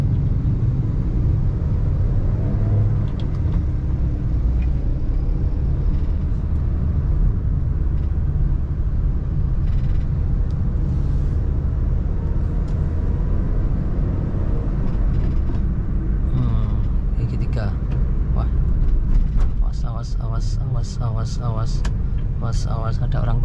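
Honda Brio hatchback accelerating through town streets in Madiun, Indonesia, a steady low engine and road rumble heard from inside the cabin, with occasional ticking near the end and a driver talking over it.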